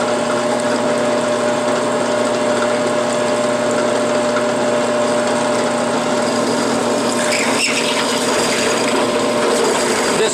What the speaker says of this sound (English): This bit's not very sharp either, so part of the challenge, but it's making a round enough hole for me to use.